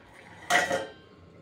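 A metal lid set down on a pot of veg biryani, one close, sharp clank that rings briefly and fades in a quiet room.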